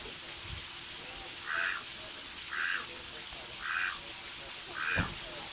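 Mallard duck calling in four evenly spaced nasal bursts, moderately close over a quiet outdoor background with a faint low hum.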